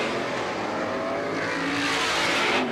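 Stock cars race around a speedway, a continuous loud engine roar that swells slightly as the pack nears, with no voices over it.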